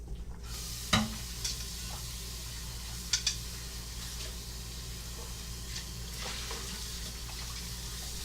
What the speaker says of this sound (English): And then we can rinse this out real quick.